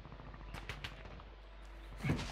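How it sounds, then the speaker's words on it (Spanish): A few sharp gunfire bursts crack in quick succession in Call of Duty: Modern Warfare II Resurgence trios, over a low background rumble, with a louder thump near the end. "Escucho disparo a la derecha."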